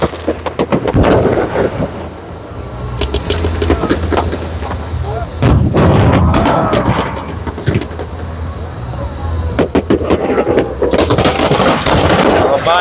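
Rapid loud fireworks bursts and crackles in dense volleys, with booming blasts, a brief lull, then another heavy barrage, at a Chinese New Year show at Jones Bridge and the Esplanade.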